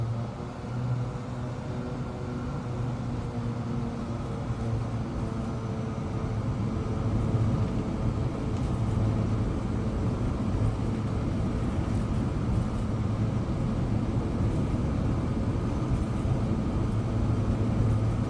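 Saab 340B turboprop engines in Microsoft Flight Simulator 2024 drone in a steady low hum with a constant tonal whine, loud and unbroken, with no voices.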